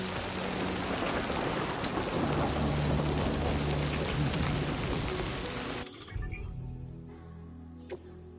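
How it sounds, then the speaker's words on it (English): Heavy, steady rain pours down with a low rolling rumble of thunder beneath it in the video game Death Stranding 2, then cuts off abruptly to near quiet with a faint hum. "Oh my god, this rain is so good."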